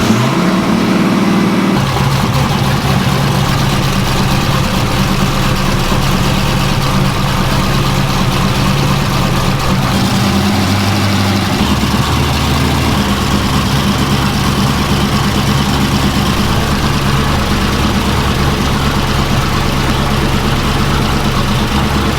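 A big-cam LS V8 runs loud and lumpy at idle, its uneven chop from a misfire on two cylinders steady throughout, with a brief rev change near the start and another around the midpoint.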